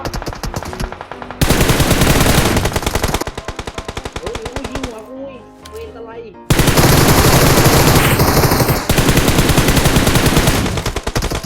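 Rapid automatic gunfire from the mobile battle royale game PUBG Mobile rattles loudly in long bursts, broken by a short quieter pause where a voice speaks over softer sounds.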